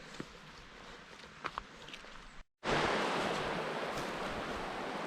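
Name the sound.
flowing water of the River South Esk, Scotland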